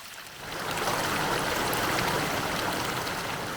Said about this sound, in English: If nature had a soundtrack, the noise of water falling just might be the biggest hit